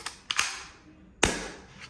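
Sharp cap-gun style pops from a metal toy Colt pistol: a quick cluster of snappy cracks, a pause, then one louder crack and a faint later tick, close and dry.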